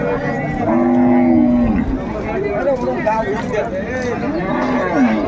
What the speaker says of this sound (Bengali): গাভী বাছুর আমরা দেখছিলাম